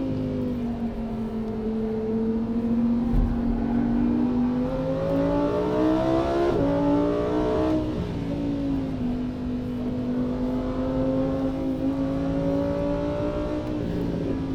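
A Lamborghini Huracan EVO lapping the Nordschleife, its engine note rising and falling smoothly through the revs as it accelerates and lifts, loud and close throughout, with no voices.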